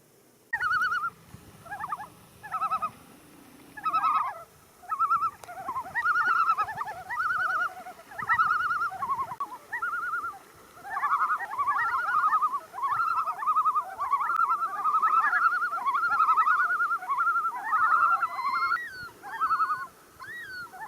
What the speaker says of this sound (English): I have no idea what those loons are doing, but that is so awesome.